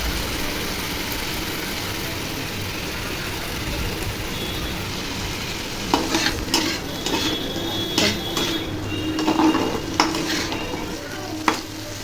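Snack stirred and frying in a pan on a rainy evening, a steady sizzle underneath with spoon or utensil scrapes and clinks against the pan growing busier in the second half, no voices.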